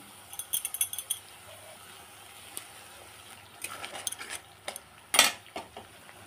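Spoon scraping and clinking in a pan as a spice masala of ground cashew, turmeric, salt and tomato paste is stir-fried, with light utensil taps in clusters and one louder scrape near the end, no talk.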